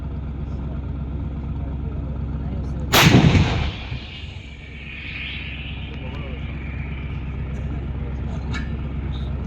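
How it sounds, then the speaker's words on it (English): An Indian Army artillery gun at the annual firepower demonstration in Devlali, Nashik, fires a burst of heavy booms that stand out above a constant low mechanical rumble, then fades into distant echoes. "the gun, which will now fire a burst of 3 rounds on Bahula 2"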